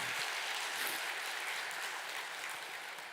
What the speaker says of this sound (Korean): 힘차게 박수